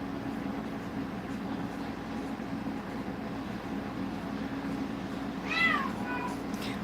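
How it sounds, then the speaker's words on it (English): A female cat in heat gives a short burst of loud, wavering meows near the end, rising above a steady low indoor hum from a live stream setting. "Oh, my daughter's one cat, Princess, is in heat."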